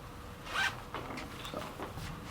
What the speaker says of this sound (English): We have zippers on both sides, YKK zippers with their brand hits.